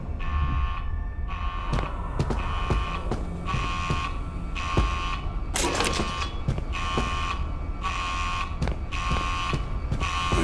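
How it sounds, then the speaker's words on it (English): An alarm sounds in regular repeating beeps, about one each second, loud and continuous over a rumbling background with a few sharp clicks. "That's some kind of alarm."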